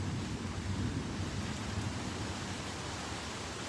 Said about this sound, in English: Look how it's raining out here, yo.